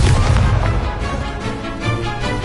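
The Levioso levitation spell is cast in Hogwarts Legacy, a loud, dense burst of rushing, rumbling magical effect noise that fills the whole moment without letup.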